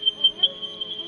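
A smoke alarm going off during a Daytona GTE-class sim race, a steady high electronic tone pulsing in short bursts, fairly loud and alone.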